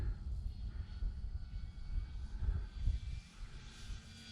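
A Bighorn OMP model airplane flies overhead with a steady, moderately distant propeller engine drone that swells slightly and then eases off, with no talking.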